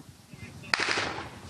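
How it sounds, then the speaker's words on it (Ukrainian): A sharp gunshot cracks out amid a firefight at a front-line position in the snow near Yelnyk, one loud close report followed by a rolling echo over a quiet background. "Зав'язалася стрілянина."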